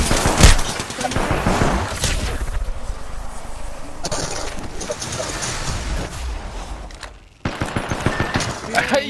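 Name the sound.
gunfire in video game Apex Legends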